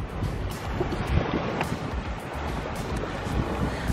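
Strong wind at a beach, a constant loud rushing roar buffeting the microphone with low rumbling gusts, broadly continuous and without speech.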